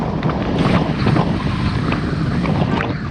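Wind roars and buffets across the microphone during a group bike ride on a road in hot, humid weather near Honea, Texas, a loud continuous rumbling gust with no voices.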